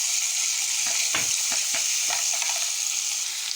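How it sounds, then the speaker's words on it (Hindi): Onions frying in hot oil in a pan, a steady loud sizzle throughout with a few spoon-stirring scrapes and clicks breaking through near the middle; no talking. "पैन में हम डालेंगे थोड़ा सा ऑयल गर्म हो रहा है। अब हम इसमें डालेंगे अनियन।"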